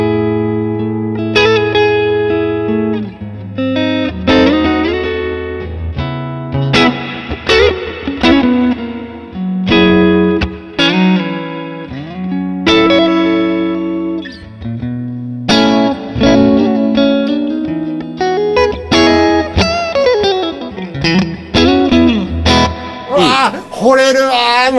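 A custom-order electric guitar is played clean in a music shop, with melodic single notes and chords ringing out loud and close, rich with reverb and chorus shimmer, over about twenty-five seconds.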